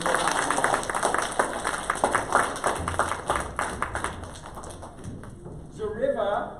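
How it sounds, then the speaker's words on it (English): Audience applause after a third-grade school play about explorers and the Iroquois, a steady spatter of many hands clapping close and fairly loud for several seconds before thinning out, with voices mixed in. "Give the women of the Iroquois some applause."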